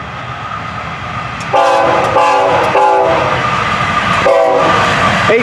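A Florida East Coast Railway freight train's horn blasts in several short repeated calls over the steady rumble of the passing train, loud and close.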